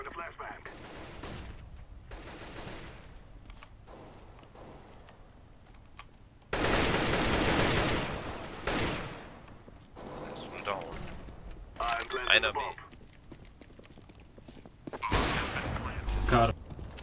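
Bursts of rapid gunfire in Counter-Strike: Global Offensive crackle loudly, with a long sustained volley in the middle and voices talking between shots.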